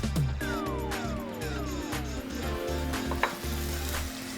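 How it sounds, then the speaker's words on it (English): Butter melting in a preheated hot pan on a barbecue grill, a soft even sizzle under a steady low hum, with a few faint clinks and one small tap, close and fairly quiet. "So we're gonna start by melting some butter."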